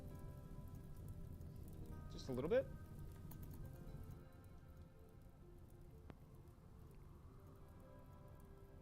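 Rain falls in the colony sim Rimworld as a steady, soft hiss throughout, with a person talking briefly over it.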